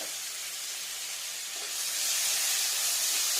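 Sliced onions sizzle in hot oil while a Katla fish curry is cooked, a steady broadband hiss that swells louder about halfway through, with no voices.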